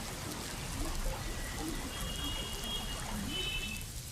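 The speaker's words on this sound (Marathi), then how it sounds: "आज सकाळपासूनच पावसाने मुंबईमध्ये सर्वत्र हजेरी लावल्याचं पाहायला मिळतंय।" Monsoon rain falls across Mumbai in a soft, even hiss of drops on surfaces that holds steady at a moderate, fairly distant level. No talking is heard.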